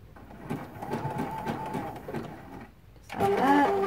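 A sewing machine runs a short burst of back stitches through a stained-glass flower quilt at the bias tape border, a fairly close, rapid mechanical patter that stops briefly before a voice comes in.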